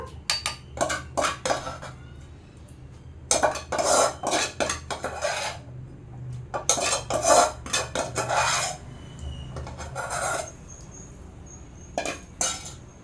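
Cooked tomatoes being scraped and tipped into a stone mortar for a village-style chutney, bursts of rasping metal scrapes and clinks in uneven clusters with short pauses between.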